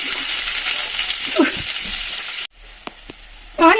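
Onions hit hot oil with fennel seeds while a prawn gravy is being made, giving a loud, close sizzle with scrapes of stirring. The sound drops out abruptly halfway, then comes back with a faint tapping and a sharp burst at the end.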